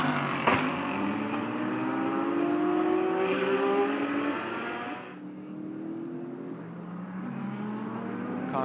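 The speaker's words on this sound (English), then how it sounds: "Cars coming through the inner loop here." GT race cars on sighting laps through the inner loop at Watkins Glen, engines rising in pitch as they accelerate and pass close by, one car fading out before another follows in, loud and continuous with no talk.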